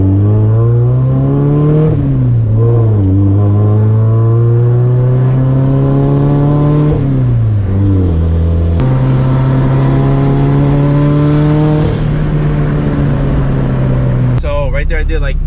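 A turbocharged Honda Integra with a tucked radiator and an overheating problem revs up into boost, its loud, close engine note climbing and dipping in pitch through several throttle pulls before a final rise.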